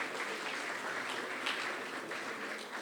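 A crowd at an eloquence contest claps for a retired primary school headmistress, a sustained, even round of applause at moderate volume with no voices over it.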